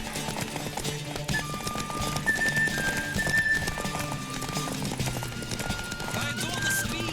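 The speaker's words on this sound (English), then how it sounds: "Don't spare the horse." A horse gallops in The Witcher 3, quick rhythmic hoofbeats running under music and game voices throughout.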